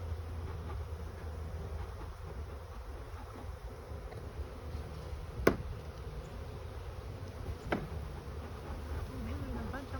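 Honeybees drone steadily around a hive being smoked during maintenance, a low continuous hum with wind noise throughout and two brief sharp clicks partway through.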